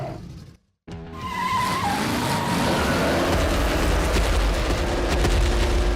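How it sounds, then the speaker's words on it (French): Animated Hot Wheels car squealing its tires, a loud sustained screech with engine roar that starts abruptly after a short silence and continues without letup. "Le plus urgent, C'est de faire crisser les pneus."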